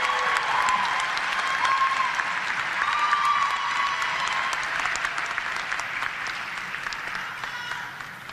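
Sustained applause fills a hall at a university fall commencement ceremony, a loud, even crowd of clapping with a few faint whistles and voices mixed in, slowly tapering near the end.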